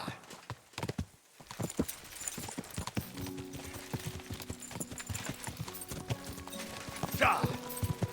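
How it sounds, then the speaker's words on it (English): Horse hooves clip-clopping at a fast gait in Kingdom Come: Deliverance II, a steady rhythmic stream of hoofbeats close by, with a player's voice talking over it and a whinny near the end. "Been so long since I rode this horse."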